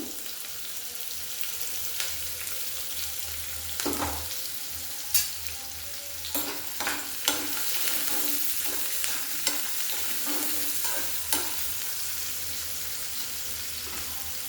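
Onion and green chilies fry in a pan for an amaranth and chana dal masala curry, a constant soft sizzle broken by scattered spoon scrapes and taps against the pan, close and fairly quiet.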